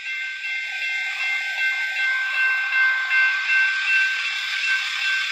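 A train's long, steady horn blares continuously at a railway crossing, swelling slightly in loudness over rumbling rail noise.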